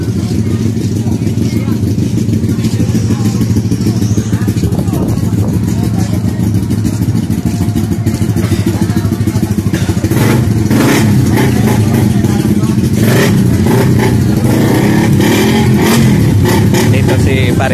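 Racing motorcycles, Suzuki Raider 150 Fi class, drone around the Bacolod circuit in a steady, loud, layered engine roar with rising revs and clatter, while voices talk over it.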